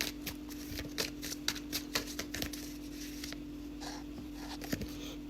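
Oracle angel cards are shuffled by hand for a reading, a close run of rapid papery flicks and riffles in uneven bursts over a low steady hum.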